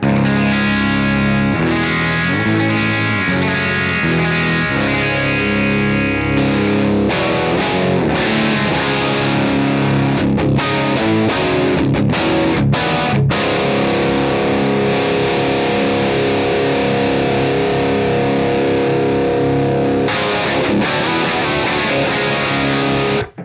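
A distorted electric guitar through a Matthews Effects Architect V3 overdrive pedal in diode mode plays chords and riffs, loud and continuous, with a gritty overdriven crunch and some chorus-like shimmer.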